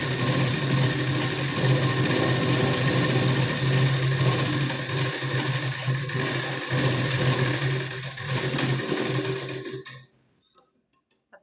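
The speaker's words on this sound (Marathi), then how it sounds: "आपण आता डबल शिलाई देऊन घेऊ परत त्याच शिलाईवर." A sewing machine runs continuously, stitching a double seam over an existing seam on a blouse. The motor whirs steadily for about ten seconds, then stops abruptly into near silence.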